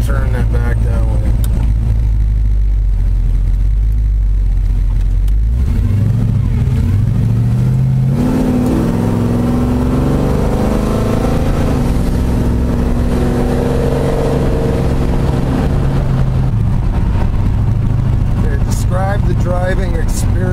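A 1952 GMC pickup truck engine idles loud and close, then revs up in rising, wavering pulls while trying to break the tires loose, with someone talking over parts of it.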